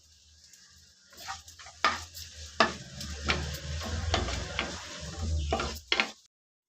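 Coconut and tamarind lightly fried and stirred in a pan for paddu: a spoon scrapes in irregular strokes over a low, soft sizzle, close by and moderately loud, with no talking.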